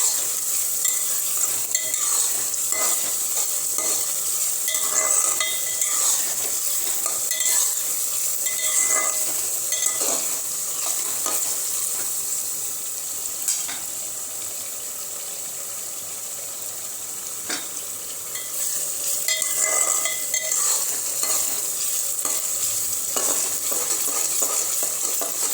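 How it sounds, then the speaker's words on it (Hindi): Onions for keema frying in a pan and being stirred, a continuous bright sizzle with repeated scraping strokes of a spatula, dipping briefly in the middle before rising again. "तो प्याज गोल्डन फ्राई हो जाए तो मिलते हैं फ्रेंड्स थोड़ी देर में।"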